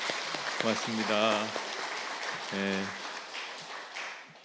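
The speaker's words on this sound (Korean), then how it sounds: "선생님들 향해서도 박수해 주시면" A church congregation applauds the kindergarten teachers, a soft patter of clapping running under a voice that speaks over it.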